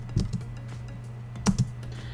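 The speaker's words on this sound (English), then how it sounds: "I press Alt on my keyboard and I hold it while I drag the keyframes a little bit further." A computer keyboard is pressed while animating keyframes in After Effects: a few sharp, close key clicks come in two pairs, early and midway, over a steady low hum.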